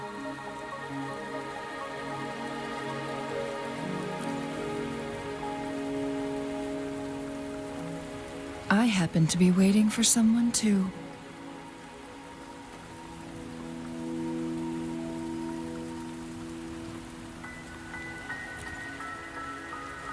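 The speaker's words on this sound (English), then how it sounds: "Are you trapped here by the rain?" Steady rain falls on surfaces in the video game Wuthering Waves, a continuous hiss under quiet ambient music, broken midway by a short louder burst of effects and a line of spoken dialogue.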